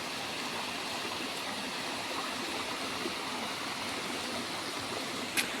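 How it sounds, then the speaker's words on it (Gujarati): The Dhareda waterfall in Banaskantha, where the Saraswati river rises, pours down from the hills in a steady, dense roar of falling water, close and constant with no voices. "પહાડોની ઉપરથી જે પાણી ઢળીને આવે"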